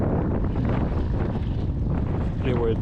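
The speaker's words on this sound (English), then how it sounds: "I'm hoping that wind really does stop here in a minute" Strong, dangerous wind blowing across a boat ramp at the water's edge, buffeting the microphone with a continuous loud roar and rumble throughout.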